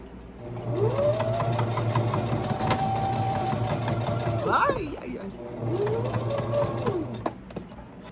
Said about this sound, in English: We're doing a stay stitch